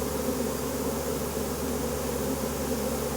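A rescued honeybee swarm hums in a steady, dense drone as it settles into a hive, loud and close with no break and no voices.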